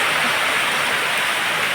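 Dense, steady rain pours down continuously in a loud hiss with no pauses and no voices.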